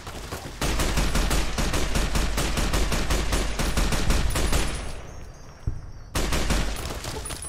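Dense, rapid gunfire from Fallout: New Vegas, Lonesome Road, near the Courier's Mile and Long 15: a loud, steady stream of shots with a brief lull near the end before firing resumes.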